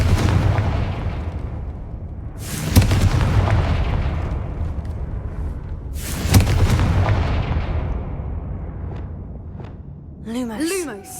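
Confringo blasting spells exploding in Hogwarts Legacy, two or three heavy booms with rumbling decay over game sounds, and a shouted spell call present in the scene.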